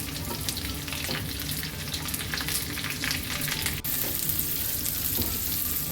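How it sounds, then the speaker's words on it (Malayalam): Diced onion sizzles steadily in a hot pan alongside dried red chillies, a dense continuous frying hiss with faint stirring scrapes, close and loud with no voices. "സവോള ഇട്ട് കൊടുക്കാം."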